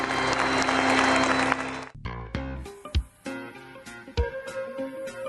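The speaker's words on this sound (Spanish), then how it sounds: "los cardenales estallaron en un fuerte aplauso" Cardinals burst into loud applause at a liturgical celebration as Pope Leo XIV passes among them, dense clapping for about two seconds, then cut off by unrelated music and an advertising jingle.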